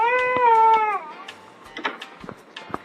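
A house cat gives one long, drawn-out meow lasting about a second, followed by soft scattered clicks and small household noises at close range, with no voices.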